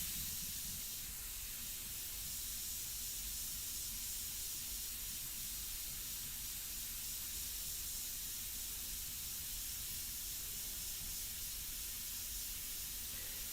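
An airbrush sprays India ink onto a portrait, giving a soft, continuous hiss that stays even and quiet for the whole stretch with no talking.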